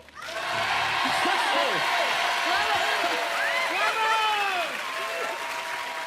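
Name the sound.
audience applauding at a horse show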